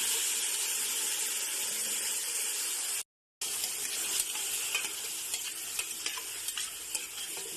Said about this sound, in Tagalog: Unahin natin ang bawang. Sunod na ang sibuyas at luya. Then, ilagay na ang ating chicken feet.